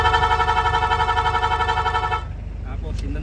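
Rapid horn on a Hyundai Grace van, a fast pulsing electronic horn blast with a rhythmic stutter, loud and close for about two seconds before cutting off, leaving faint background noise.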